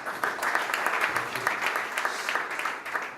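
Audience applause at a healthcare and biotech startup competition, welcoming the CEO and co-founder of Top Doctors to the stage; dense, steady clapping from a crowd for a few seconds.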